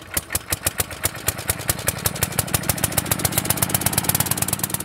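A 1957 tractor engine runs close by with a steady, loud chugging beat of sharp exhaust pulses that quickens slightly over the stretch, heard alone with no talk.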